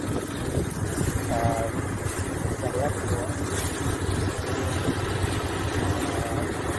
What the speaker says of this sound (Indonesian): sekarang dilakukan thresher menggunakan mesin ya, mesin thresher